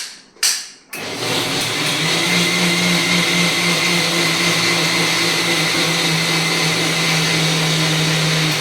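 A kitchen grinder whirs loudly and steadily after a couple of short start-up bursts, grinding a fine paste for idli, appe or dosa.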